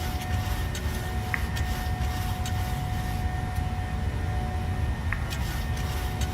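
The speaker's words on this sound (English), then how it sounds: "There the aircraft will start accelerating." Steady, even engine roar from a PMDG Boeing 737-700 in Microsoft Flight Simulator 2020 as it builds speed after takeoff on an Edmonton to Calgary flight. Continuous broadband drone with faint intermittent clicks, no talking.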